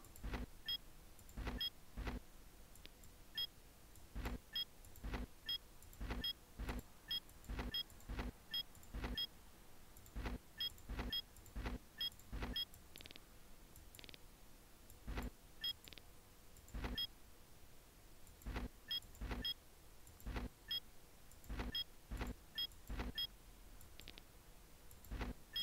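Repair vehicles move forward in the Battle Isle 2 strategy game, making a run of sharp, quiet clicks in an irregular rhythm, some grouped in quick bursts, over a faint low hum, with no voices.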